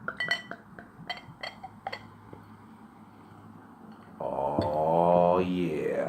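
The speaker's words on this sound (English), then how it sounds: "let's get this beer into a glass" Budweiser Budvar lager poured into a glass, starting with a few light clinks of the bottle against the glass and then a steady gurgling pour that grows louder near the end; a voice is faintly present.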